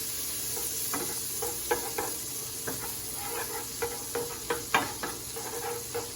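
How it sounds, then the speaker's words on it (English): Butter cooking down in a pan as the base for a from-scratch brown gravy, with a continuous sizzling hiss and a series of light scraping stirs against the pan, close and alone. "So let that butter cook down"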